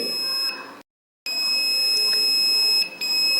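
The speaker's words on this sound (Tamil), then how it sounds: "இப்போ பீப்பில் வைக்கும்போது ஃபுல்லாகவே பீப் அடிக்குது" Steady electronic beep tone from a multimeter's continuity setting during a mobile phone resistor test, held almost continuously with one short gap, fairly loud and alone without talk.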